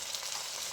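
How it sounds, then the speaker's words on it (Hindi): Turmeric being fried and stirred with potatoes in a pan for a beetroot leaf dish, a soft, steady sizzle heard close but fairly quiet, with no talking. "अब हम इसको भून लेंगे 2 मिनट भूनेंगे, मिला लेते हैं।"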